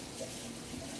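Tap water runs steadily from a kitchen faucet as hands are washed mid-way through baking a simple vanilla cake, a soft continuous splash with no talking.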